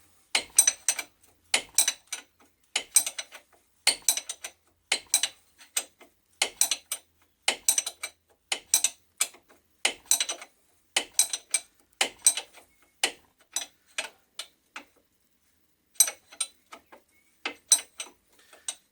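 Bolts being loosened on the front suspension of a 2009 Ford Focus, heard as a long run of quick, close metallic ratchet clicks in bursts with brief pauses.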